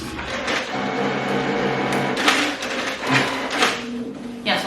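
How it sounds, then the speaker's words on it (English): A printer feeds and prints on watercolor paper, whirring and clacking with a few sharp mechanical bursts, while a person talks over it. "So when it starts printing, you have to push the paper down"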